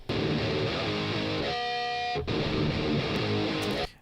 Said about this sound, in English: We actually have 2 different guitar sounds, so this is the first one.